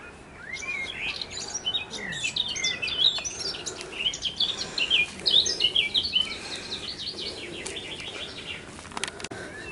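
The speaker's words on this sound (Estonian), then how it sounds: "Linnud nii kõvasti laulavad." Many birds sing loudly outdoors among gardens and trees on an island in Bavaria, a dense, continuous chorus of overlapping chirps and trills filling the whole stretch, with quiet outdoor ambience beneath.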